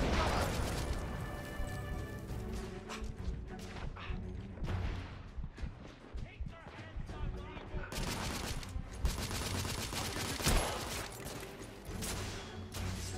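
Sniper and other gunfire in the video game The Order: 1886, a dense run of sharp shots and crashing impacts throughout, with game voices and a player talking over the battle.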